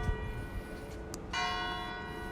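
Church bells ringing on the Royal Mile in Edinburgh, a sustained resonant peal building over street noise, with a brighter strike midway and the tone swelling into a fuller ring toward the end.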